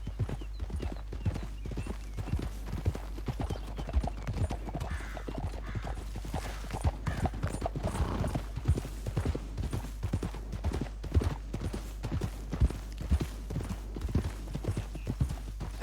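Horse hooves clip-clop in a brisk, continuous riding rhythm in Red Dead Redemption 2, close and clear over a low steady hum, with a faint whinny partway through.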